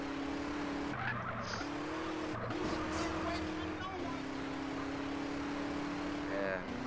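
A car in the video game GTA San Andreas drives on, its engine a steady hum that shifts pitch with gear changes, with faint tire and road noise throughout and no talking.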